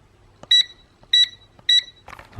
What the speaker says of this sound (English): So you should hear beeping when I get to it.